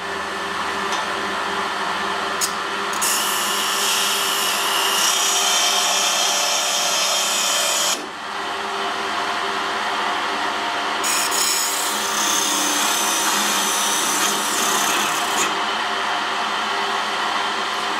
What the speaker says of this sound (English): Back in the lathe, I've got an old putty knife. I've sharpened it, and that's my parting tool for this job.